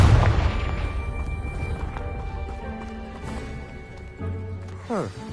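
A Confringo blasting spell explodes in Hogwarts Legacy with a loud booming burst at the start, followed by a lingering crackling rumble and scattered debris clatter that fades out.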